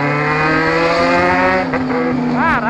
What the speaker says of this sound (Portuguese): Eu tô acelerando com o motor frio